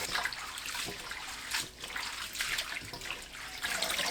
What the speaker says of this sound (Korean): 톳을 씻어줍니다.